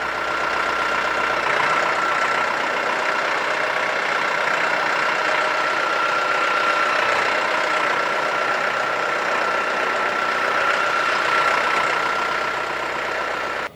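A Solis Yanmar YM Series tractor engine runs steadily at low revs while moving in L1 gear, a continuous mechanical drone with a faint knocking texture and no change in pace.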